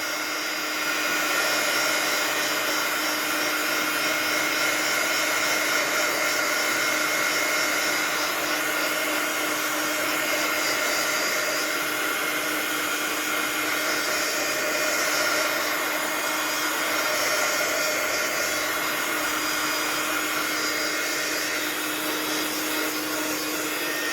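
A hair dryer blows steadily and loudly for the whole stretch, drying a brush painting made with embossing powder, with no talk over it.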